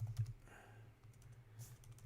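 Typing on a computer keyboard during a music production session, heard as faint, soft key taps in a short irregular run over a low hum.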